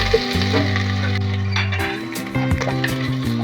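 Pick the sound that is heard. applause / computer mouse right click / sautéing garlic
sautéing garlic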